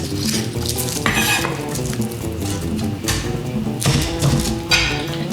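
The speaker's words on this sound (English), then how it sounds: "Just want to crush it, just smash it. Don't cut yourself, but you want to press the garlic." Garlic cloves are pressed and crushed on a kitchen board while making Asian-inspired chicken stock. Repeated close, crunchy smashing and scraping sounds play against a steady background of sizzling.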